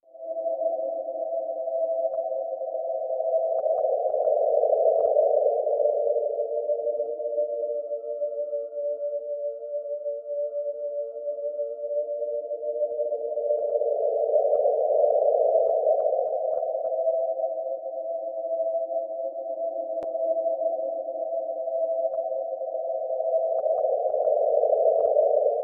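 Data sonification of a rotating galaxy from astronomy data, a smooth layered electronic tone that slowly swells and dips in pitch and loudness, steady and alone with no voices.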